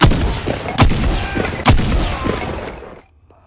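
Deep booming blasts in the video game BoneLab, where a grenade goes off, with two sharp, loud detonations about a second apart over a rumbling backdrop that fades out at the end.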